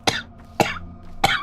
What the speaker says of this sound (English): That was an awful cough.